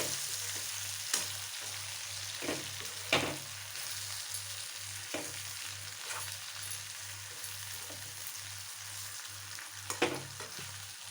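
Green chillies fry in oil for a mango oil pickle, a steady soft sizzle with a low hum beneath and occasional sharper crackles and pops, heard alone without talk.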